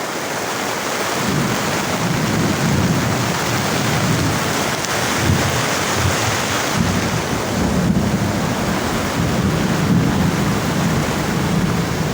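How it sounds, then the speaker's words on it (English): Steady rainfall patters down nearby with a low, rolling rumble that fits distant thunder, a continuous wash of sound with no talking. "Lovely rainfall, man. I tell you, lovely rainfall."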